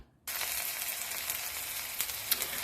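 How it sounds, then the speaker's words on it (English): Onions hit hot oil for a gari foto stir fry with a sudden loud sizzle after a moment of silence, then a steady close crackling hiss with a few sharper pops. "So I'm just allowing this oil to heat up, and we'll just toss in the onions."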